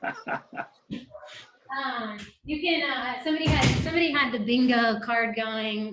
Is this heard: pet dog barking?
yes